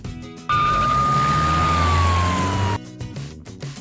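A single loud ambulance siren blares close by as one steady, slowly falling wail for about two seconds, cut off sharply between quieter street sounds before and after.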